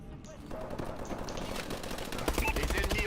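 Rapid bursts of automatic gunfire fill a competitive first-person shooter match, crackling continuously at close range with a denser, heavier volley near the end.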